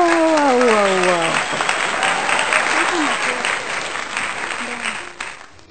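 A crowd applauds boys moulding bricks in Kano, with steady, dense clapping that begins after a brief voice and fades out toward the end.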